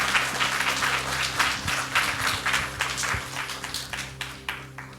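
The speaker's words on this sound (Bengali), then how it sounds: "আমাদের অনুরোধ আপনাদের তাদের জন্য একটা করতালি" Audience members at a poetry recital event applaud for the backstage helpers, a steady patter of clapping hands over a low electrical hum, moderately loud and continuous.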